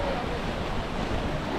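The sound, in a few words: ocean waves at Cheoc Van beach, Macau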